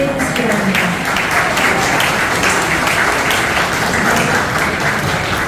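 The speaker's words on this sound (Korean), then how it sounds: "추가 박수" Applause from a seated audience at a retirement ceremony for horse racing trainers, a steady, dense wash of clapping that carries evenly throughout without a break.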